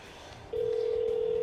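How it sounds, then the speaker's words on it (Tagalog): A telephone being dialed to place a call: after half a second of quiet room noise, a steady unbroken line tone starts and holds clearly to the end, with no voices. "Tawagan ko nga si Kai."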